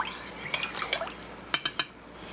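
A utensil stirs beans and lentils in a pot, giving wet sloshing with several sharp metallic clinks against the sides, the last three louder and spaced in quick succession.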